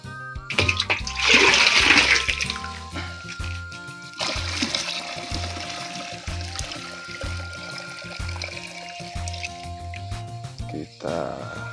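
Water is poured into a mixing container for a chili plant treatment, a loud gushing splash for a few seconds, then a softer trickle over rhythmic mechanical thumping and background clatter.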